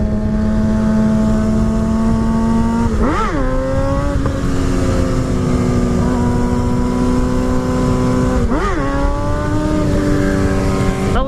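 Motorcycle engine held at high revs in fourth gear during a stand-up wheelie, a loud steady whine with two sharp shift-like dips in pitch, close and continuous with no talking.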